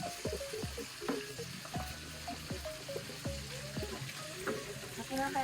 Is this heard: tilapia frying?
yes